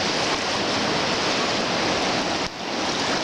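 Floodwater of the New River rushes in a loud, dense, continuous roar close by, with a brief dip near the end and no talking.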